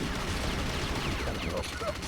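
Gunfire in the fast-paced arena shooter Unreal Tournament during a retro LAN tournament match, a dense clattering barrage of shots and zapping weapon effects layered over constant game noise.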